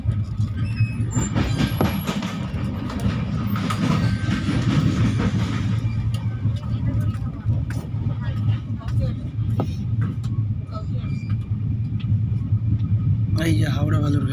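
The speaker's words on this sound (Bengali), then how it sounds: "আমাদের ট্রেন এখন পার করছে নিউ ফারাক্কা জংশন।" The 13181 Kaziranga Express rolls through New Farakka Junction with a steady, loud rumble of wheels on rail and rattling coaches, continuous throughout, faint clicks over joints and brief louder clatter near the end.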